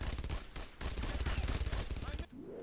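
Rapid machine gun bursts rattle in Brothers in Arms: Road to Hill 30 during World War II combat in Carentan, loud and dense, with a brief pause, then a long sustained stream of fire that cuts off near the end.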